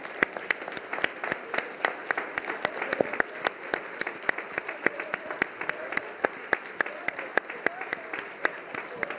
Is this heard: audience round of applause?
yes